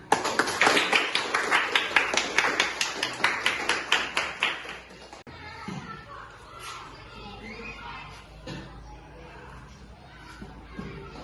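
Students in an Islamic school classroom clap in a fast, rhythmic patterned burst that fades out after about five seconds, followed by murmuring voices and shuffling in the room.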